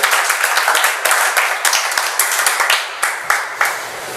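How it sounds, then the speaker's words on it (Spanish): A church congregation claps in a quick, rhythmic burst of applause, close and loud, with individual sharp claps standing out over a few seconds and no talking. "Dale ese aplauso."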